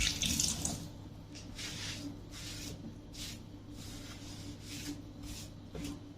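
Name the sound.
water running from tap while washing hands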